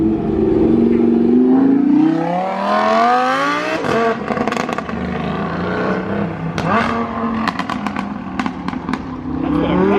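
Full carbon Nissan GTR with a Rift exhaust revving hard at an early morning car show, loud rising engine roar followed by sharp crackling pops and bangs from the exhaust, close and prominent.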